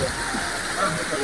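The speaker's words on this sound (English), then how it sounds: "So yes, it's a waterfall. The water is flowing down there." Waterfall in Ghana, a steady broadband rush of falling water, loud and continuous, with a voice faintly present.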